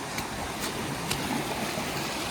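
A river running through forest at Glendalough in Ireland, heard as a continuous broadband rush of flowing water, close and steady with no breaks and no talking.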